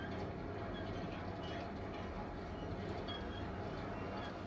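A subway train ride in the Syberia 3 video game, with a steady, continuous rumble of rolling rail cars and faint clatter, even and unbroken throughout.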